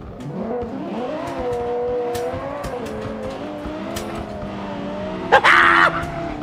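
In the video game BeamNG.drive, a car drifts with a steady engine drone and long wavering tire squeal, ending in a brief harsher skid burst near the end.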